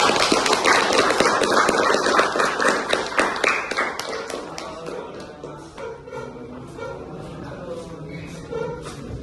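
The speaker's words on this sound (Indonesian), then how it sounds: "Berikan tepuk tangan yang meriah untuk para besar." Applause welcoming guests at an Indonesian science and technology event, a dense patter of clapping hands that is loud at first and thins out toward the end.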